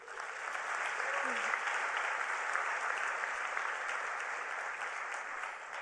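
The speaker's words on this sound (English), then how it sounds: "Please, let's give Erica a big hand of applause." At the Hult Prize 2019 event at the United Nations, a large audience gives a speaker a steady round of applause, a dense continuous wash of clapping that sounds somewhat distant and even in level.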